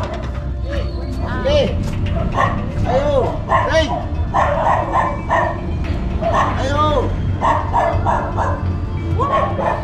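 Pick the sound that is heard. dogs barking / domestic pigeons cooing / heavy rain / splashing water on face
dogs barking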